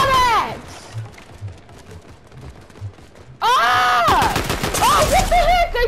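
Gunfire in a Fortnite match, a loud rapid burst of shots in the second half after quieter footsteps and thumps, with excited shouting over it.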